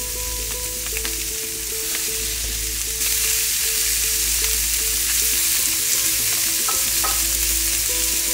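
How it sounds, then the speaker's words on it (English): Fingerling potatoes set cut side down on a hot grill give off a loud, continuous sizzle that swells brighter partway through, with a faint tonal hum beneath and no voices. "When the grill is nice and hot, I'll place the potatoes on it,"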